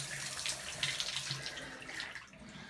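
A bathtub faucet, freshly fitted with a new stem and seat, runs a steady close stream of water splashing into the tub, with no talking.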